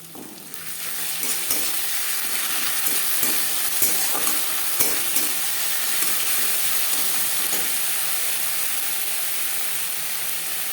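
Onions sizzle and fry with ginger paste and green chili paste in a pan, stirred steadily throughout with scattered scraping clicks from the spoon over a constant loud hiss, for an egg omelette curry.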